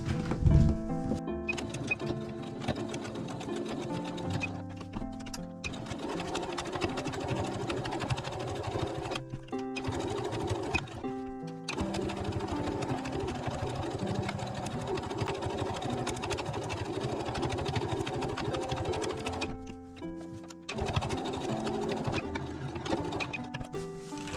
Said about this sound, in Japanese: 中表に合わせて、ここ7センチほど開けて ぐるりっと縫ってきます。